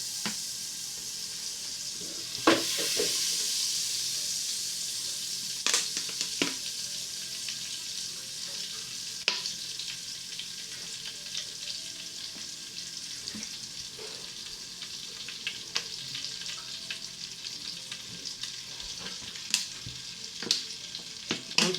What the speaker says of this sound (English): I'm adding my red oil, guys.